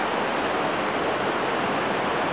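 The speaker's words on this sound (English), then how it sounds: "This is the Austral Creek." Austral Creek at McDougall Forks campsite rushes with high water after overnight rain, a dense, unbroken roar of flowing water, close and steady with no voices.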